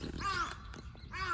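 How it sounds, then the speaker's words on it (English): A crow caws twice, two loud harsh calls near the start and end, fairly close with a short gap between them. "I hear a crow."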